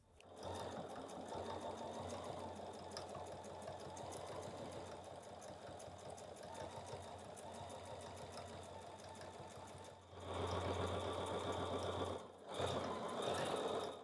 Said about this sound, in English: I'll see you over at the machine, and I will top stitch that down.